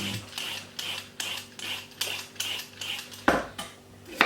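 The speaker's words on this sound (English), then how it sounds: "I'm just going to peel my carrot" Carrot being peeled with a peeler in a kitchen for a salad, a steady series of rhythmic scraping strokes about twice a second, close and fairly quiet.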